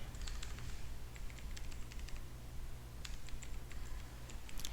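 Computer keyboard typing while entering formulas in an Excel spreadsheet: two quick bursts of light, irregular key clicks with a short pause between, close and moderately loud over a steady low hum.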